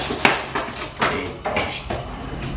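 Kitchen utensils rummaged in a home kitchen, a handful of metallic clinks and knocks at irregular intervals, close and moderately loud, with no talk.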